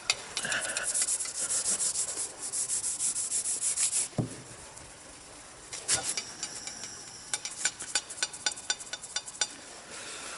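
Hand rubbing with polishing compound on a 40-year-old narrowboat porthole, a steady close rasping scrub that pauses, then resumes in shorter, choppier strokes with occasional light knocks.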